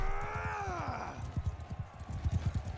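Horses in a Mount & Blade II: Bannerlord tournament, a falling whinny-like cry up front, then rapid galloping hoofbeats thudding in an uneven rhythm.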